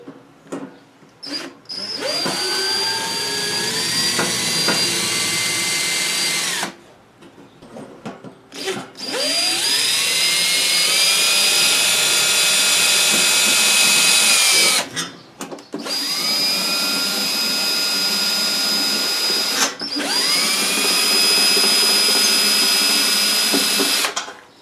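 A power drill with a buffing wheel cleaning rust off a Kisco fan whines loudly in three long bursts, each spinning up and holding a steady pitch, separated by brief pauses and clatter.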